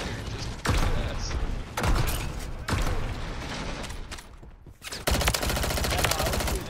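Heavy automatic gunfire in the Call of Duty MW3 Zombies game, loud rapid bursts in several long strings separated by brief gaps, with mechanical weapon handling between them.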